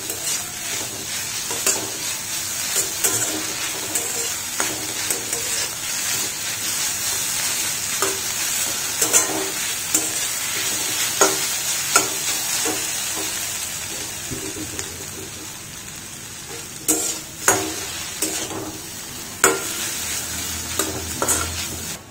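Bamboo shoot noodles fry in a pan for a Jain Indian vegetarian dish made without onion or garlic: a steady, close sizzle runs throughout, broken by repeated scraping and clinking of stirring, with no one talking.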